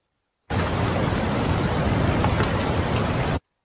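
Steady, dense rain hiss from a video game rain and thunder effect in Unreal Engine 5, at constant loudness, starting and stopping abruptly, with no distinct thunder cracks.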